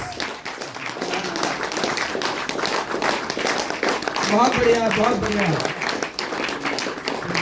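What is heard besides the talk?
audience applause at a stage event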